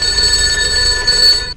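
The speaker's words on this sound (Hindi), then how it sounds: "तभी दोबारा फोन बजता है।" A telephone rings in a film scene, a steady electronic bell tone sounding loud and close for over a second, with no voices over it.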